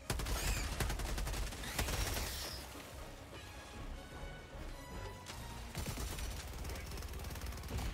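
Dense, chaotic gunfire and crashing impacts fill a battle in the video game Helldivers, sustained rapid shots with explosive smashes layered over busy game sound.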